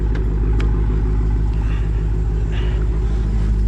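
A 640hp Dodge Charger SRT Hellcat rumbles steadily at night, a loud, deep, continuous engine drone heard from inside the car, with no voices.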